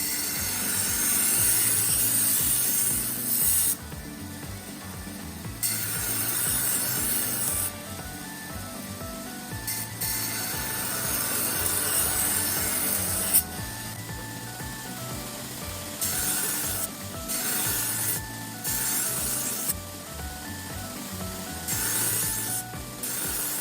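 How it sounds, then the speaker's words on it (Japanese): A belt grinder with a coarse 60-grit belt grinds the bevels of an ATS34 steel Japanese kitchen knife blade, a loud continuous abrasive rasp that swells and eases in passes, with brief pauses between strokes and no talking. "60番のベルトでヒラと切れ刃を作っていきます。"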